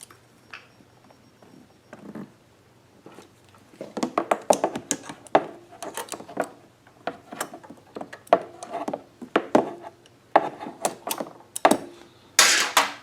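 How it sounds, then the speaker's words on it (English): Pliers squeezing a hose clamp on a fuel line while installing an extended-run fuel kit on a Ryobi 1800/2300 generator, a dense run of close clicks, snaps and metallic rattles that grows busier. "Get a pair of pliers on there to squeeze that hose clamp down"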